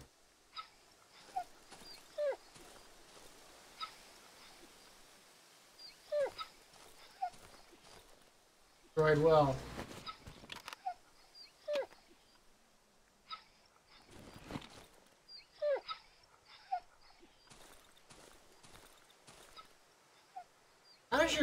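In the horror video game Darkwood, a dying dog gives repeated short whimpers and whines, scattered through the scene among brief footstep-like thuds, a louder burst of game noise partway through, and occasional speech.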